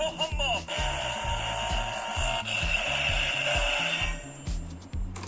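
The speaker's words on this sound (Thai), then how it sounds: "เสียงสเกลพลังครับ" A Kamen Rider Kiva DX toy transformation belt plays an electronic power-up effect: a pulsing, stepped synth rhythm under a bright tonal whine, fairly quiet and continuous.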